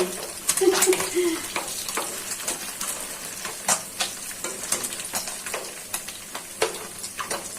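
Small puti fish fry crisp in hot oil in a pan, a steady crackling sizzle broken by repeated clinks and scrapes of a spatula stirring them, close and fairly loud with no talk.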